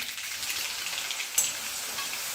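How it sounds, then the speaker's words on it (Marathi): Mustard seeds and a garlic-green chili thecha sizzle and crackle in hot oil in a home kitchen pan, a steady bright frying hiss with a sharper pop midway, no voices. "तेल थोडंसं गरम झालं आहे त्यामध्ये आपण टाकायची आहे मोहरी मोहरी तडतडल्यानंतर त्यामध्ये आपण हा तयार केलेला ठेचा टाकायचा"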